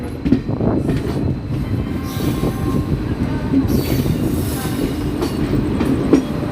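A WAG-9 electric locomotive standing with a freight train of BCN box wagons at Patratu, with steady rail rumble and faint wheel noise running throughout.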